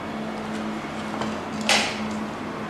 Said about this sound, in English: With enrolled Fingerprint, open the door.